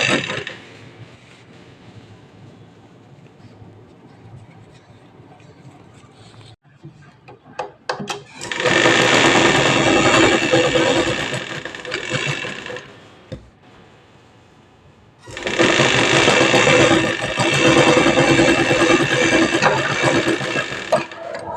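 A sewing machine runs loose basting stitches around the neckline of a kurti in two long, loud bursts, with quieter handling of the fabric and machine between them.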